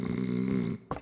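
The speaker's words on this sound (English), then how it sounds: "Old lady just... having a little snore." An elderly woman in the video game Dordogne lets out a short, low, rumbling snore that ends with a quick nasal snort, close and clear.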